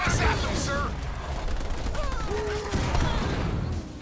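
Video-game gunfire crackles continuously as an allied base comes under attack, a dense rattle of distant shots layered with radio voice chatter and game alerts.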